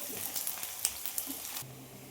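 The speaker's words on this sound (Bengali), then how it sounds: "আমি এখন পেঁয়াজটা দিয়ে ভেজে নেবো সুন্দর করে" Chopped onions sizzling in hot oil in a pan while cooking duck curry, a soft steady frying hiss with faint crackles, ending with a low hum.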